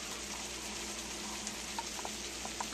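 Salisbury steak patties frying in a pan, a soft, steady sizzle with faint crackles and a few small pops toward the end, quiet and close, with no talking.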